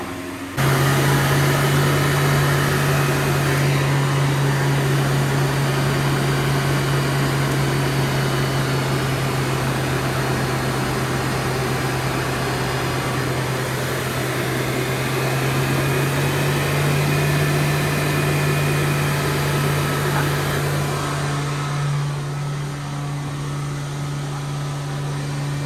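A car's wheel area after it ran off the road, listened to through a mechanic's stethoscope: a loud, steady mechanical drone with a strong low hum and broad hiss. It stays constant for the whole stretch with no talking.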